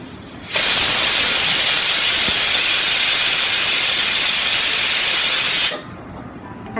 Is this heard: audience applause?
no